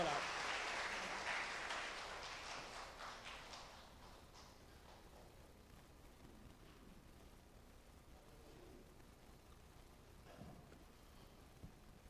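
A church congregation claps to welcome a speaker, a dense round of applause that fades over several seconds into quiet room noise.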